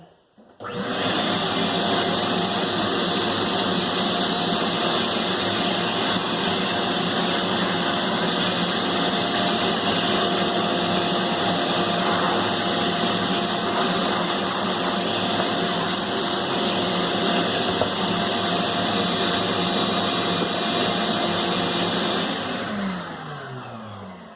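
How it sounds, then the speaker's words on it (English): A vacuum cleaner runs nearby for a long stretch, its loud steady whine and hum constant before cutting off at the end. "vacuum on real quick here."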